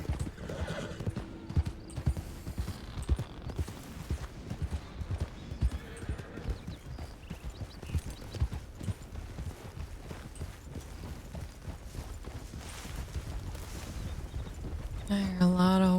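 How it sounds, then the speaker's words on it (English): Several horses clip-clop along in the Red Dead video game, continuous hoofbeats close by with a whinny early on, faint voices murmuring under the steps. "I hear a lot of horses."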